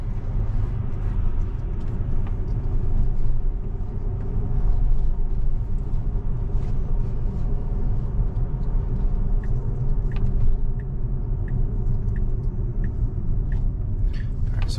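A Tesla on FSD Beta driving at night gives a steady, loud low rumble of road and tyre noise that carries on without a break, with no talk over it.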